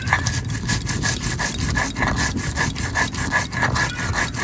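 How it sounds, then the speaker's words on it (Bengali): Cumin and garam masala ground by hand on a village grinding stone, a steady rhythmic back-and-forth scraping of stone on stone, close and loud, repeating about every half second without pause. "জিরে গরম মশলা একটু বেটে নিচ্ছি"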